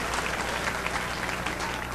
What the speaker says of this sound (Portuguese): Aplauda outra vez ao Senhor Jesus